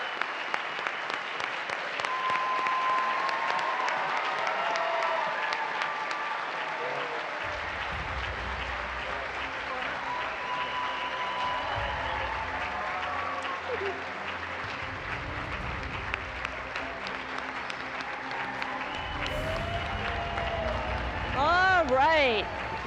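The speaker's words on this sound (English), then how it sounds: "Great round of applause." An indoor audience gives a long, sustained round of applause welcoming NASA's astronaut class, a steady roar of clapping with some cheering underneath, and a few low thumps and rising whistle-like tones surfacing toward the end.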